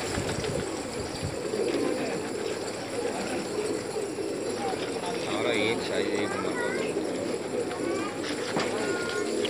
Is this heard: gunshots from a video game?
no